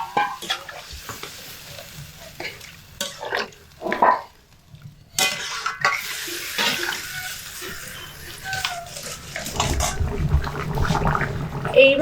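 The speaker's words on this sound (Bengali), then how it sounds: "তো এবার এর মধ্যে হালকা উষ্ণ গরম জল দিয়ে দেব।" Warm water is poured into sizzling eggplant and potato curry in a pan, a hissing splash and bubbling sizzle building toward the end after clattering stirring and intermittent spoon taps.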